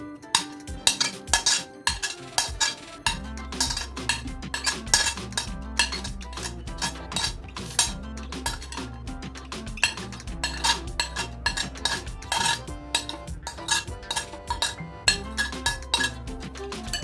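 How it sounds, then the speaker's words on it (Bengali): Chopped ingredients being mixed into sour curd for raita: a long run of repeated spoon clinks and scrapes against a bowl in an irregular stirring rhythm, close and fairly quiet, with no talk. "এবারে আমরা এই উপকরণগুলি টক দইয়ের মধ্যে মিশিয়ে দেব"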